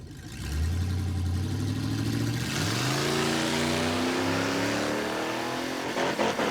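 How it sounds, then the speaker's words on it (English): A drag car's engine screams at launch and bounces hard against the rev limiter, a loud, sustained high-pitched drone with rising harmonics and a stuttering buzz near the end, close and alone. "It shifted to second, but it didn't go. And it hit the rev limiter."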